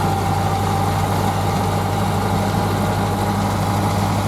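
A 1930 Ford Model A engine runs while the car drives along, a loud, steady, droning rumble heard from inside at a constant pitch, with no talking.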